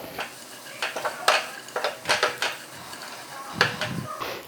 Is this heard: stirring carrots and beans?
yes